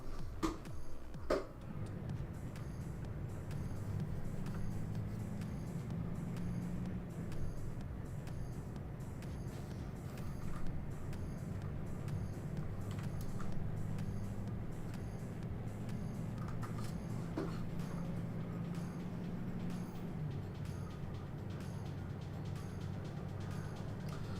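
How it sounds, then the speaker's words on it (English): A heavy truck engine in Euro Truck Simulator 2 drones steadily throughout, a low rumbling hum with slight rises and falls, continuous and fairly quiet. "truck sounds so beastly to drive as well"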